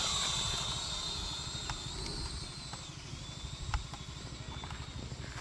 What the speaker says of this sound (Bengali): এই যে ড্রোনটি উঠছে